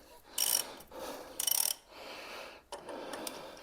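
A long-handled ratchet clicks in short, sharp bursts while working a seized suspension nut loose on a Jaguar XKR, with metallic scraping and creaking between the close, fairly loud clicks.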